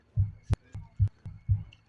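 A heartbeat sound effect thumps in steady paired beats, low deep thuds with sharp clicks between them, five or six beats in under two seconds, close and alone without speech.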